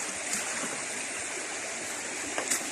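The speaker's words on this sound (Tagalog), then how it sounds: "malakas na uli yung tubig oh. Lakas na uli yung sapa." Steady rushing water, a broad continuous wash like a fast stream flowing over rocks, close by and unbroken throughout.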